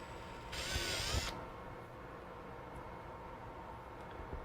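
Power drill boring into a power supply test box, a loud whining burst lasting under a second amid steady low workshop hum, with quieter background noise continuing afterward.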